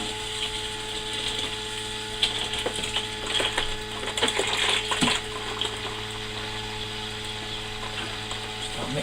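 Brewing water being stirred and mixed in a home mash tun, a continuous close watery swishing with a steady electrical hum beneath and a few clunks midway, no talking.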